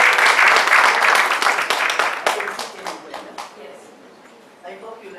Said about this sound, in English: So let's give a round of applause for Mama Mary Lusimbi.